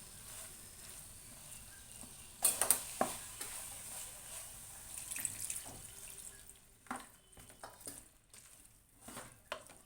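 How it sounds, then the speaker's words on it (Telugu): About a glass and a half of water is poured into a pot of capsicum, potato and meal maker curry, heard as faint splashing and pouring bursts over a low kitchen background, followed by light stirring noises. "ఒక గ్లాసున్నర వాటర్ వేసుకొని ఉడికించుకుందాము"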